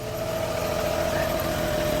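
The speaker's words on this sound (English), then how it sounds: "Tractor's good and warmed up." A steady, low tractor engine idle hums continuously with a faint vibrating drone and no changes in pitch.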